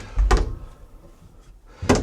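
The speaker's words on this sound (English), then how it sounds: "so be careful when you open the door." A hotel room door at the Runnymede-on-Thames hotel opens in a tight entryway, making two dull thumps, one at the start and one at the end, with quiet room tone between.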